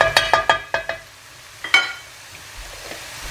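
Garlic and Chinese five spice are stirred in a dry Berghoff pan, with a few quick scraping clinks of the utensil against the metal up close and a light sizzle beneath them.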